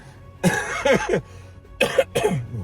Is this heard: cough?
yes